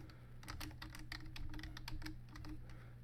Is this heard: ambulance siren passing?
no